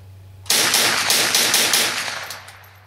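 A German Sport Guns AK-47 rifle fires a rapid burst of shots, close and loud, the sharp cracks running together for about two seconds before the echo fades.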